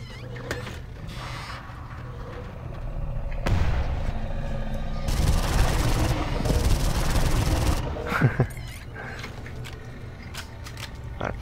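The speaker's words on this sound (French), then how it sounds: "Je vais juste prendre de nouveau une grenade flash" Gunfire and a flash grenade in the video game Far Cry, with sporadic shots early on, then a sustained loud burst of booming fire and rapid shots in the middle that fades back to scattered clicks and sharp reports.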